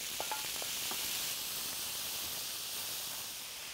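Beef with oriental spices, salt and pepper frying in a little olive oil for kebab, a steady close hiss and sizzle with a few faint clicks early on, no talking.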